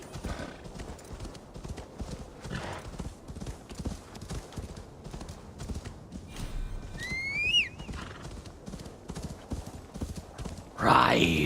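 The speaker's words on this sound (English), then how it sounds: "Ride as you've never ridden before, you stallion." A horse gallops in Assassin's Creed Valhalla with steady, fast hoofbeats throughout and a sharp whinny midway, while voices chatter faintly over it.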